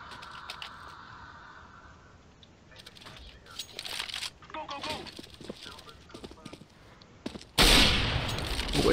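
Pistol gunfire in the video game CS:GO, a series of sharp shots amid keyboard clatter, ending in a loud sustained burst of fire; players talk over the action.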